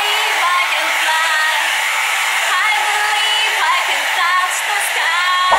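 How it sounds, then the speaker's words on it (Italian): A hair dryer blows steadily on a handmade Miraculous jewelry box to dry it, a loud continuous whooshing drone that runs unbroken from start to finish while a voice sings faintly over it. "possiamo lasciarla ad asciugare oppure andarla ad asciugare noi stessi col phon"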